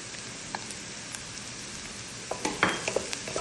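Fish mixture with spices being stirred in a pan, soft scraping and faint sizzling throughout, with a few sharper utensil scrapes and clicks near the end.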